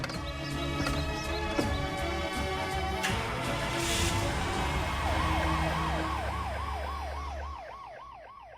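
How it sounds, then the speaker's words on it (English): A wailing ambulance siren rises and falls repeatedly, loud and close, over a busy mix of traffic and street noise. "the ambulance is here"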